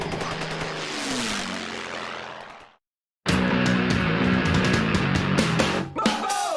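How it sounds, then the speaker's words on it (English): Durafly Corsair RC model plane flying, its propeller motor a steady, loud buzzing drone that cuts out briefly to silence, then resumes with a shifting pitch. "This is still a flyable plane."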